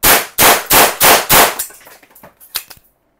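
A Tokarev TT-33 blank-firing pistol shot five times in quick, even succession, each bang loud and close, followed by fainter metallic clicks and rattles as the empty gun is worked.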